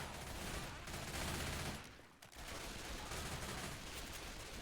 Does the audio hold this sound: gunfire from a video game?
yes